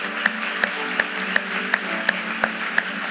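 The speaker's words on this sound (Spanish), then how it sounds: "podamos aplaudirte por tu valentía" A church congregation applauds with a slow, regular rhythm of sharp clap peaks, about one every third of a second, above a steady wash of music and room noise.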